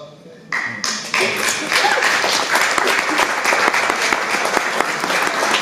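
Audience applause at a memorial gathering, starting with a few claps and swelling into loud, sustained clapping with sharp individual claps standing out.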